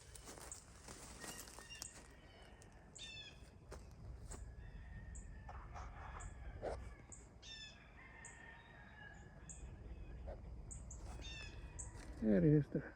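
Baby birds call from a nest with faint, high, scattered chirps over quiet outdoor background, ending in a louder burst of calls.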